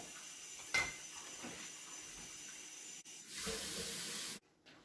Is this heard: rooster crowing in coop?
no